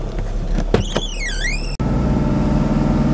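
BMW E36 drift car engine with a raised rev limit, heard as a steady loud idle with a sharp rising-and-falling whine and then a rougher, pulsing engine note after a sudden cut.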